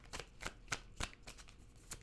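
Tarot cards are shuffled and drawn in a quiet room: a series of soft, crisp paper flicks and slides, about eight short bursts at an uneven rhythm, close and faint, with no voices.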